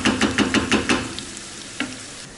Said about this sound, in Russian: Вода закипела, активно бурлит.